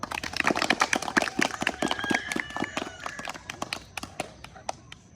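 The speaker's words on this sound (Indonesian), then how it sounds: "Berikan tepuk tangan untuk teman-temannya" Schoolchildren in a physical-education class give a group of classmates a round of applause: a small crowd of sharp, uneven hand claps up close that gradually spread out and taper off, with a brief tonal voice sound in the middle.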